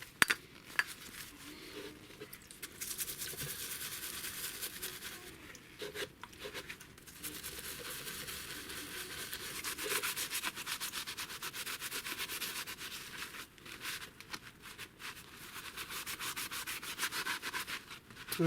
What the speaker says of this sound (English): we've given it a scrub and we can actually see some daylight through here now